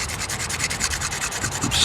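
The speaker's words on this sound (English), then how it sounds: "start scraping away at it. Now, the idea is to get a dusting of magnesium powder." A blade scrapes a magnesium block into fine powder for fire starting, making rapid, rhythmic rasping strokes, close and steady, with no speech.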